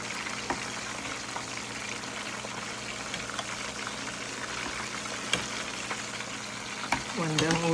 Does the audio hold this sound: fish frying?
yes